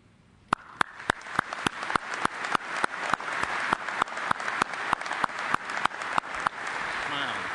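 Steady crowd applause from a large audience at a firefighter conference opening ceremony, greeting a corporate chief executive as he takes the stage; dense clapping with sharp individual claps standing out, sustained throughout.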